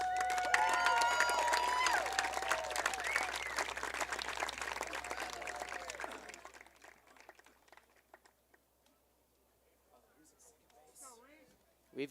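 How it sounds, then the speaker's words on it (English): A ballpark crowd at a high school senior night baseball game gives the seniors a round of applause, a dense burst of clapping and cheering that fades away after about six seconds into near quiet. "How about another big round of applause for our seniors?"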